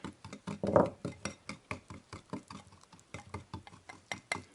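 Mini cupcake batter is stirred by hand in a bowl, giving a steady run of soft rhythmic scraping taps, close and fairly quiet.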